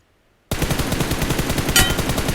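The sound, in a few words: M4 gunfire in video game PUBG Mobile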